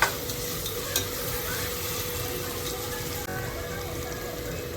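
Ginger garlic paste sizzles softly in a pan as it is stirred and sautéed for chicken biryani. A steady low frying hiss runs throughout, with a couple of faint utensil taps near the start.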